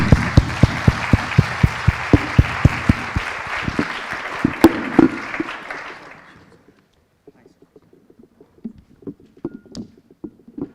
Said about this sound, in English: I'd like to ask the audience to applaud our guest today.